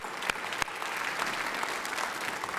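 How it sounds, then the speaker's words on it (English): Audience applause at a Martin Luther King Jr. regional celebration evening event, a steady dense wash of clapping from a large crowd that stays loud and even throughout, with a couple of sharper claps standing out near the start. "Kermit, let's give her a nice round of applause"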